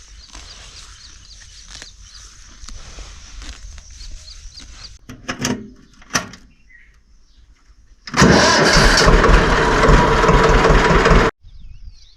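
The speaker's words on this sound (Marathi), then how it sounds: "ट्रॅक्टर चालू केला आहे" A tractor engine cranks and starts after a few clunks, then roars loudly for several seconds before cutting off; faint ambient noise comes before it.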